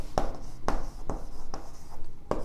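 Chalk or marker writing on a board during a maths lesson, with rhythmic scratchy strokes repeating about every half second, close and fairly loud.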